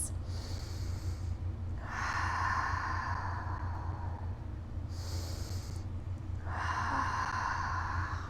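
Deep breathing during a morning vinyasa yoga session: two slow, audible inhale-exhale cycles, each a long breathy rush of air, close to the microphone over a steady low background hum.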